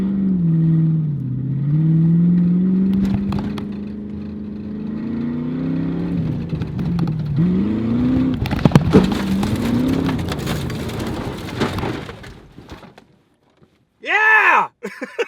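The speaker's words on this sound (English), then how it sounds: "is the first time I've ever actually drifted a car" A rear-wheel-drive G35 or Mustang revs hard while drifting on a wet surface, the engine droning and rising and falling in pitch over a patter of rain before cutting off, followed by a short burst of swooping tones near the end.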